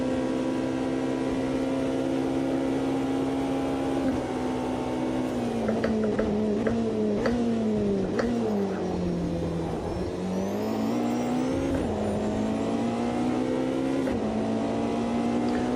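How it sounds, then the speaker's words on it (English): Porsche LMDH race car in the AMS2 racing game at Le Mans, a continuous loud engine whine that rises and falls with gear changes and throttle, a dip and recovery near the middle, no talking. "I've only ever driven the Porsche"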